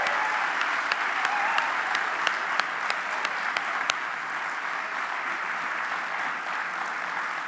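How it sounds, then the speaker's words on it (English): Sustained applause from a political party gathering fills the room after a speech, a dense steady wash of clapping with a few sharper claps standing out, holding at an even level throughout with no talk. "Can we just give one more big round of applause to Holly for that absolutely inspiring speech?"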